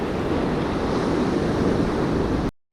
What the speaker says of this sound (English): the wave action has gotten so much better down here